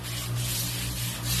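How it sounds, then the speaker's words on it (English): Brisk scrubbing of an outdoor cement floor with a broom, a steady rough bristle rasp over a low background hum. "You're going to wear out the broom with that scrubbing."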